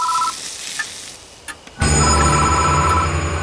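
In the horror game Death Mark a short tail of an electronic phone ring fades out, followed by a few faint clicks, then a sudden loud dense burst of music or noise takes over.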